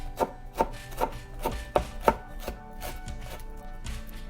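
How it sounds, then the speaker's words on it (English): Knife chopping banana flower florets on a board, a quiet series of about eight crisp, evenly spaced cuts in steady rhythm that fade to softer taps toward the end, with no talking. "So let's start by chopping the florets."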